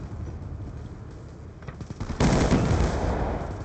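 Automatic gunfire rattles in Black Ops II: light scattered shots give way to a loud, sustained burst of rapid fire close by.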